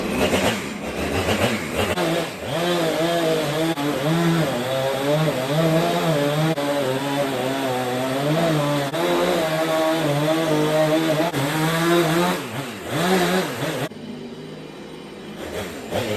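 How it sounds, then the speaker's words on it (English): A chainsaw cuts through a house wall during demolition, its engine running as one loud, steady, wavering whine for about fourteen seconds before it cuts out and leaves quieter background noise. "So hopefully we can get through this cut with the chainsaw."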